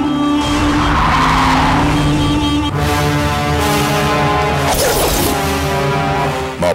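A car speeds off with loud, sustained tire screeching and a roaring engine, close and intense throughout, ending with a final burst of squealing. No one speaks.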